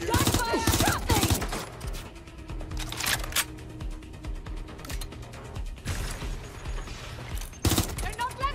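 Dense bursts of Watch Dogs: Legion gunfire crackle and rattle in rapid volleys over a constant busy background, with loud clusters of shots recurring throughout.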